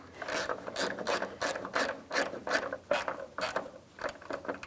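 A ratchet wrench clicks in quick, steady bursts while tightening the battery hold-down bolt on a 2007-2017 Ford Expedition 5.4L, close and clear with no talk.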